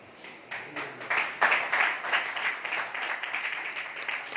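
Audience applause at a sales seminar: a roomful of people clapping steadily and densely, swelling after the first half second and holding at an even level for about four seconds.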